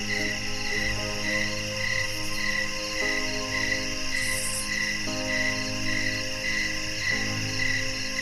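Dense chorus of crickets chirping on a summer night, a steady high pulsing trill layered over more distant insect calls, constant and loud with no voices.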